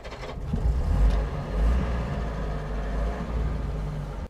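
A Citroën ID19 Safari estate car drives along with a steady, loud engine drone and road rumble throughout, with no one talking.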